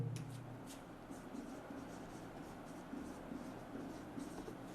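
Chalk or marker writing on a board in a chemistry class, a soft continuous scratching and rubbing throughout, faint and steady under quiet room noise.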